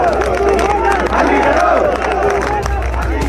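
A crowd of locals at the Singhu border protest site in Delhi shouts slogans against the protesting farmers, with loud, dense overlapping voices and crowd noise.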